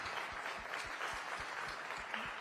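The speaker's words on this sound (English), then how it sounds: "Yes, please clap to that." Steady applause from a studio audience celebrating an all-women space crew, a dense continuous patter of many hands clapping at moderate volume with no talk over it.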